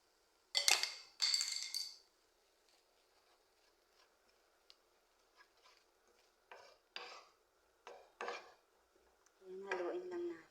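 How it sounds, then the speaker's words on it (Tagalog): Spoon scraping and clinking against a pot while stirring a rice mixture seasoned with salt, black pepper, cumin, seven spices, turmeric and cinnamon for Kuwaiti majboos, in sharp separate bursts with quiet gaps between them. "Ayan, haluin lang natin."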